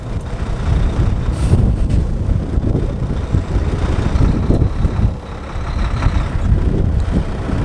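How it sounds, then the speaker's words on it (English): A truck's engine rumbles steadily at low pitch as the tractor gently pulls against its parking brake, with wind buffeting the microphone throughout. "I am then going to gently pull against my tractor parking brake to ensure it holds the vehicle."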